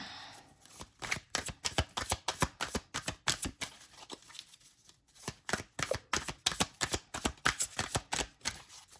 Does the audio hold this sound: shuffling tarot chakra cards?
yes